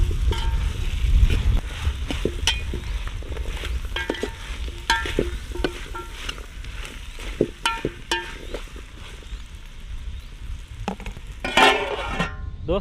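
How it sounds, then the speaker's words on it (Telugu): Potato and carrot pieces sizzle steadily in a pan for a vegetable paneer pulao, with a constant close frying hiss broken by frequent scraping stirs and a louder clatter near the end. "ఈ ఆలుగడ్డ ముక్కలు అట్లే ఈ క్యారెట్ ముక్కలు వేసుకొని మంచిగా మగ్గనిచ్చుకోవాలి"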